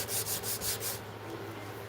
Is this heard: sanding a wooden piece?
yes